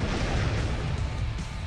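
A unit blows up on death in a strategy video game, a loud dense burst of explosive noise sustained throughout with no voices over it.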